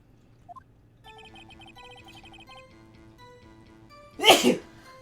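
A single loud sneeze bursts out near the end, over a soft electronic melody and faint blips, in the video game Ace Attorney: Phoenix Wright.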